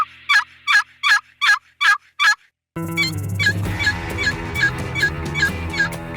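Turkey calls during a turkey hunt in Mexico, a run of six sharp, evenly spaced yelps, loud and close, then more yelps repeating over denser background sound.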